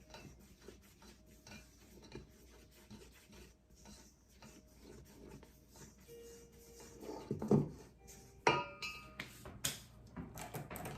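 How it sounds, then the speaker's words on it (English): Strawberry cake ingredients are mixed in a bowl in a home kitchen, giving a steady rasping, scraping stir that runs throughout, growing louder with sharper knocks of utensil against bowl toward the end. "Mix this together well."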